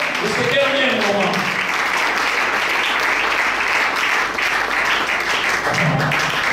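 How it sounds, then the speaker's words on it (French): A church congregation applauds and cheers steadily for a man, the dense crowd noise holding loud and continuous throughout, with a voice calling out briefly at the start. "Est-ce qu'on peut acclamer pour cet homme? Acclame bien, acclame bien."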